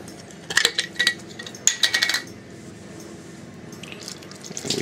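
Saltwater brine is poured over garlic and dill pickles in a container, giving a close splashing, trickling run of liquid with a few clinks of glass early on, then a softer steady pour.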